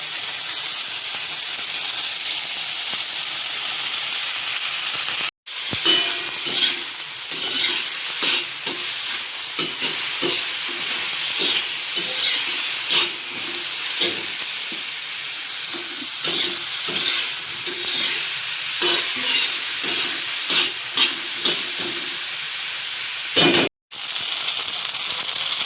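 Hot oil sizzles and spits as green chilies, onion and tomato fry for a spicy thecha, with a spoon scraping and stirring the pan; a loud, close, continuous hiss with rhythmic stirring clatter and two brief breaks.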